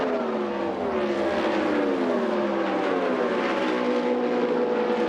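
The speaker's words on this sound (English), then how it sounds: "you can hear that stutter step out of some of the motors" Indy race car engines scream past at the 1999 Indianapolis 500, several high-pitched wails sweeping down in pitch as they pass, with an uneven stuttering edge from motors bouncing on the rev limiter.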